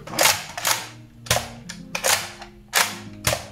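Six sharp snapping shots from an X-Shot Chaos Meteor toy foam blaster, spaced unevenly, each a crisp pop with a mechanical clack, loud and close.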